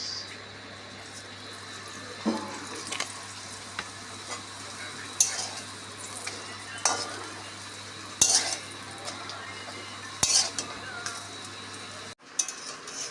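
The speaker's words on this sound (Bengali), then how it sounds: "এপিটোপিট করে ভাজা হয়ে গেছে এখন আমি তেল দেব" Paratha stuffed with jackfruit seed, potato and lentil frying in oil in a hot kadai, a soft steady sizzle with intermittent spatula scrapes and clinks, close and fairly quiet, ending in a sudden cut.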